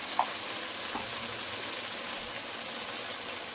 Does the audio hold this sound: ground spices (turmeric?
yes